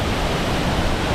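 A waterfall roars at close range as a dense, steady rush of falling water with no breaks over about a second.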